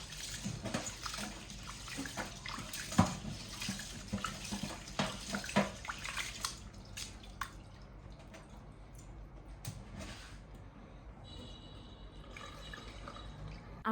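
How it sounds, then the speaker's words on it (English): Rice being washed by hand in a bowl of water, with splashing, swishing and dripping sounds that are busier and louder at first and then thin out into quieter trickles. "I'll wash the rice multiple times until the water goes from cloudy to clear."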